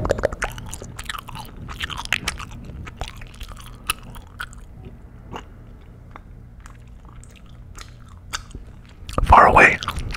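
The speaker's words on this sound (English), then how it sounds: "Muffled gum chewing." Muffled, cupped gum chewing produces close, wet squishes and sticky clicks in an uneven rhythm, with soft mouth and vocal sounds mixed in and a louder burst of chewing near the end.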